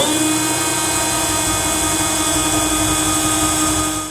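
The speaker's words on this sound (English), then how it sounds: "Just going to drill a pilot hole in all 4 locations" A loud, steady power-drill whine runs without a break, a continuous motor drone boring pilot holes into metal for a Curt underbed gooseneck trailer hitch.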